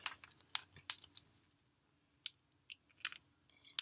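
A zipper on plastic toy packaging is tugged open in short bursts, several quick scratchy zips separated by brief pauses, close up and with no talking.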